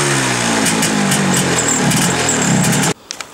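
East German MZ 150cc motorcycle engine running steadily and loud at close range as it is ridden, a constant droning roar that cuts off abruptly near the end, followed by a few faint knocks.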